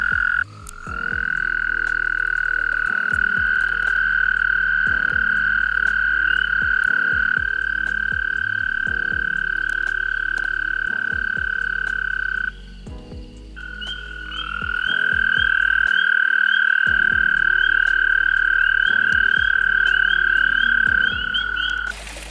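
Long, steady high-pitched trills from several male American toads, overlapping and continuous, with a brief pause midway before the chorus resumes loudly.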